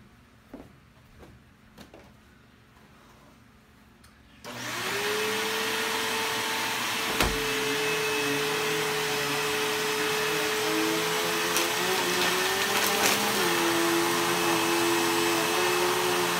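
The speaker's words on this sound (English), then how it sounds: "So now I'm gonna go ahead and use the Bissell." A Bissell Rewind Power Helix vacuum cleaner running on a rug, switching on after a few soft clicks, then a loud steady whirring drone with a rising motor whine and brief knocks as it moves.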